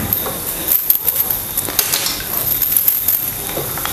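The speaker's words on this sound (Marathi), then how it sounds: "खोबरं सुद्धा आपल्याला लालसर होईपर्यंत आहे ना तेलामध्ये परतून घ्यायचं आहे" Finely chopped coconut fries in hot oil until reddish for Sangli-style bhadang, giving a steady close sizzle with occasional light clinks of a utensil against the pan.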